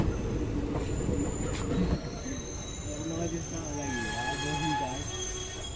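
A Kashipur–Kasganj passenger train running on rails, with a steady rumble of wheels and rolling stock overlaid by shifting high squeals from the wheels, continuous and fairly close, with voices faintly in the background.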